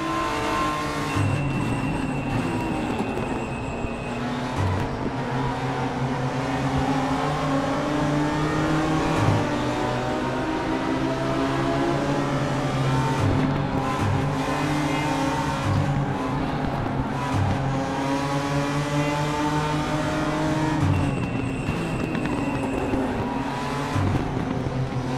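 A BMW M4 GT4 race car in the RaceRoom racing game howls at high revs throughout, with repeated gear shifts cutting its pitch up and down, and faint tire noise in places.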